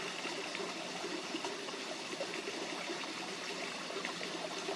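River water flows in a steady, even wash with a soft trickling texture, continuous and fairly faint throughout with no voices.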